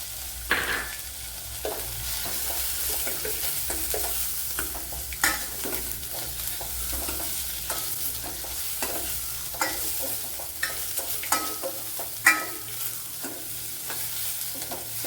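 Crushed black pepper stirred into a hot pan while preparing Kerala-style moru rasam, with a steady sizzle of frying and repeated scraping clicks of a spoon through about fifteen seconds, close and moderately loud, no talking.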